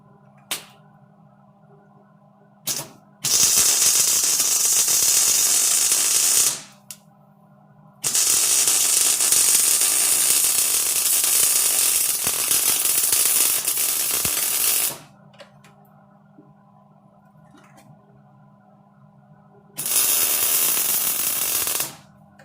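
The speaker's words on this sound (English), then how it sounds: "And I'll just weld down in there." Welding on a truck, with loud bursts of crackling arc noise lasting several seconds each, three long runs separated by quiet pauses and a couple of short taps, no talk.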